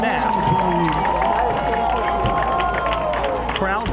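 Spectators at a high school football game, New Rochelle at Mamaroneck, murmur and cheer as a steady crowd roar, with a commentator talking over it.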